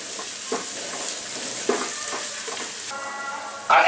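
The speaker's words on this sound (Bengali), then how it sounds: "এগুলোকে আমি একটু ভেজে নিই।" Potato pieces frying in hot oil for a vegetable pulao give a loud, continuous sizzle, broken by occasional soft scrapes of stirring and a sudden louder crackle near the end.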